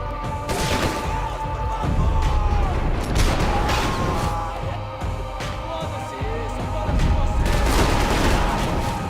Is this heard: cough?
no